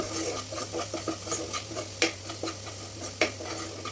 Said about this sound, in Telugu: ఒక టీ స్పూన్ అల్లం వెల్లిపాయ పేస్ట్ దాంట్లో యాడ్ చేసుకున్నామండి అది పచ్చివాసన పోయే వరకు వేపుకుందాం